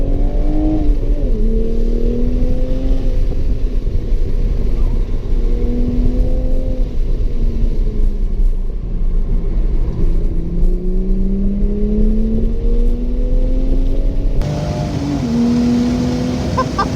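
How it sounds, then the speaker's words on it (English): A manual 2023 Toyota Supra is driven hard on a race track, with a loud, continuous exhaust drone rising and falling through the gear changes and occasional crackling pops. The sound is close and sustained throughout. "The pops and bangs are insane."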